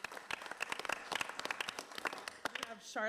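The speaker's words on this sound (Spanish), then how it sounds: "Vamos a darles un aplauso." Audience applause at a county commissioners' meeting, scattered distinct claps rising into a sparse round before a voice begins speaking at the very end.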